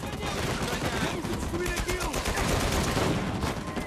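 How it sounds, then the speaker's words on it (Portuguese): Automatic weapon fire in Uncharted 4, set in Madagascar: continuous rapid bursts of gunfire crackling densely throughout, mixed with battle noise and voices talking. "É uma arma automática?"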